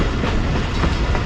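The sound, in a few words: train approaching a railway station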